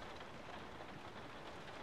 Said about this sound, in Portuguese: A chuva a cair está um espetáculo.